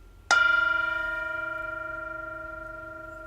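A single bell rung to open a Bible study meditation: one clear strike followed by a long, ringing, slowly fading tone with steady overtones, alone in a quiet room.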